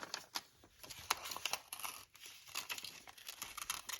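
Scissors snipping the eyes out of a glossy magazine page, a run of quick close crisp cuts and paper crinkles in an uneven rhythm, with no talking.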